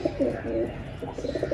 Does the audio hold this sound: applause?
no